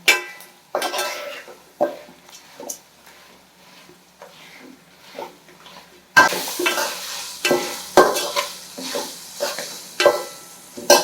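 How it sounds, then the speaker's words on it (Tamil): Dried vathal frying in a pan in a home kitchen, with repeated stirring scrapes and crackling bursts at a steady rhythm, growing louder and busier midway. "வத்தலெல்லாம் சலசலன்னு சத்தம் கேட்க வருங்க."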